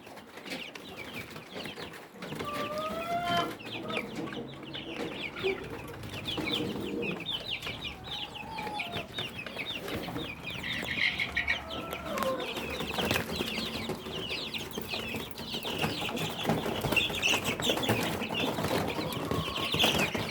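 Two-week-old Rhode Island chicks in a backyard battery cage give off a steady stream of soft clucks and peeps throughout, close and fairly dense, with no talking.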